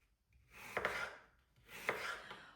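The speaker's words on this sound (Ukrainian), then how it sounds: "Скибочки робимо з усіх половинок наших яблук." A knife cuts apple halves into thin slices of about 2–3 mm for an apple pie, two short crisp cutting strokes about a second apart, close and quiet.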